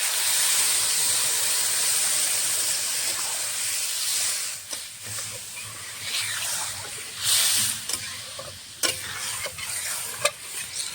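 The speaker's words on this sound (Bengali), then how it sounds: "জল দিয়ে দেবো।" Water goes into a pan of spiced potato and bitter gourd curry, setting off a steady sizzling hiss with stirring scrapes and clinks that grow sharper toward the end; no one speaks.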